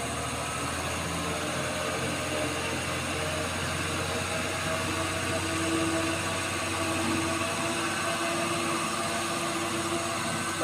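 A Mitsubishi Colt Diesel truck with a heavy load climbs a steep hill in a continuous loud, droning engine roar and labouring rumble that holds steady throughout.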